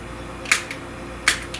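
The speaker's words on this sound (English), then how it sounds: "spray it on the back of my hand" A handheld perfume atomizer sprays a test fragrance onto the back of a hand, two short crisp hissing puffs about three-quarters of a second apart, each followed by a faint click of the pump.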